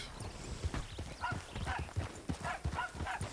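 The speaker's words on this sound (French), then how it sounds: "Attendez, les gros chevaux là." Large draft horses walking outdoors, hooves clip-clopping in a steady, uneven rhythm close by, with a faint snort or whinny mixed in.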